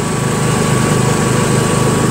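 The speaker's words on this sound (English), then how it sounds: "Engine's smooth after that oil change." A Yard Machines MTD riding mower with a 20 HP Briggs engine runs steadily at close range, a loud continuous throb with a fast even pulse and no talking.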